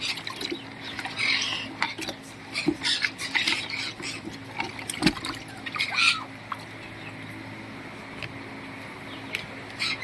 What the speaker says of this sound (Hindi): ये मैंने धो के ऑलरेडी रखे थे, लेकिन ये फिर भी मैं धो दूँगा।